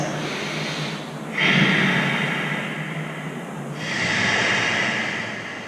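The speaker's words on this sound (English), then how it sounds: "Take a couple breaths here." Deep, slow breaths taken while holding a low runner's lunge in a yoga flow: two long, airy breaths, each swelling and fading, close and fairly clear with no talking.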